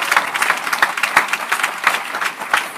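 A church congregation applauding, dense overlapping hand claps from a sizeable crowd, loud and steady with a slightly uneven rhythm throughout.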